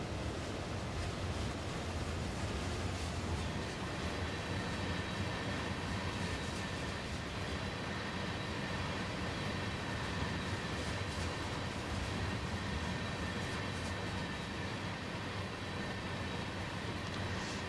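A DB Class 146 electric locomotive in Bahnland Bayern livery pulls in with a continuous rolling rumble and hiss and faint rhythmic wheel clatter, steady and fairly close, with no talk; from the simulator Train Sim World 2 on the Dresden–Riesa line.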